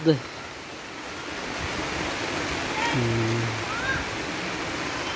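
Heavy rain pours down steadily in hilly country near a river with a new bridge, a dense constant hiss close by, with brief talk and a short voice heard over it.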